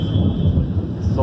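Thunder during a Bangalore thunderstorm rolls as a loud, deep, continuous rumble that fills the short stretch without a break.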